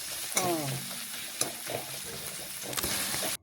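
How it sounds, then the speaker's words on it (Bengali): Sliced onions sizzle steadily while stir-fried in a pan for a fish and cauliflower dish, with a soft continuous frying hiss broken by a few clinks and scrapes of the spatula. "পেঁয়াজটা একটু নাড়াচাড়া করে লাল লাল ভেজে নিচ্ছি"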